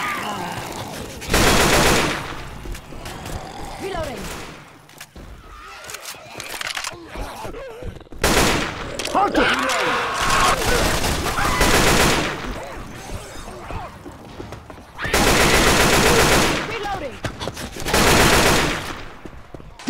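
Rapid automatic gunfire in the Left 4 Dead 2 video game, loud sustained bursts of several seconds separated by gaps, with a player's voice and in-game groans between volleys.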